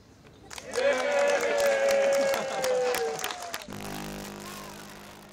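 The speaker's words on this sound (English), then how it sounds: "The inaugural tour group counted down to hearing the RMS Queen Mary's foghorn blare for the first time" A deep, sustained foghorn blast from the RMS Queen Mary, an ocean liner, sounds for about three seconds, loud and near, over crowd applause and cheering, then cuts off, leaving chatter.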